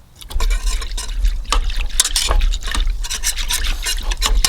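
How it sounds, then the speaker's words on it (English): A whisk churns a pandan-flavored tapioca and coconut dessert mixture in a bowl, making a steady, close sloshing and splashing of liquid that runs throughout without pause or speech. "And then I'm going to be adding some pandan flavoring in there as well, just for excess green color. Go ahead and whisk this up."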